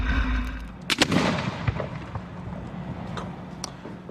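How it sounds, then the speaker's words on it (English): Fireworks set off by a fire department as a safety demonstration in Cape Coral: a loud blast followed by a cluster of sharp cracking bangs, then a lingering rumbling tail outdoors. "The department held a demonstration to show how things can quickly go wrong with fireworks in the Cape."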